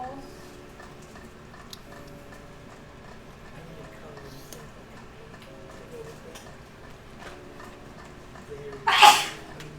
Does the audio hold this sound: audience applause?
no